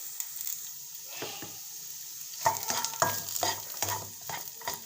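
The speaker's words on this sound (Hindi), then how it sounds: "इसको हल्का सा फ्राई करेंगे ताकि इसका कच्चापन निकल जाए 1-2 मिनट तक।" Food sizzles in hot oil while a utensil stirs and scrapes the pan in irregular strokes, close up, with no voices.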